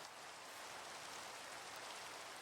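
Rain in the Minecraft TerraFirmaCraft video game, a soft, even hiss of falling rain that carries on steadily and quietly without any talking.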